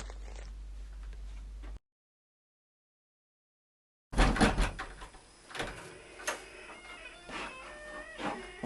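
Door of a village house being opened and shut in a comic stage sketch about a population census. After a silent gap come a loud knock and a wooden clatter, then scattered creaks and bumps that fade out.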